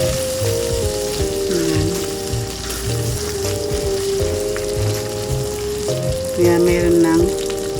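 Meat for Bicol-style dinuguan with coconut milk fries in oil, a steady close sizzle with occasional stirring, while a person speaks briefly over it and background music plays.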